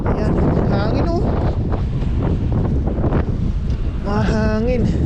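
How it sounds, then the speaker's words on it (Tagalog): Strong wind buffets the microphone during a fishing trip at the water's edge, a loud continuous roar with someone talking over it near the start and end. "Ayan, sobrang hangin po."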